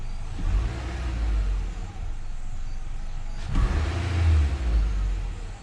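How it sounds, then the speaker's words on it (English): A 2.5-liter QR25DE four-cylinder engine in a Nissan Altima idles, then gets revved twice, with the rise and fall of each rev clearly audible up close and no talking. "so we'll give it a rev"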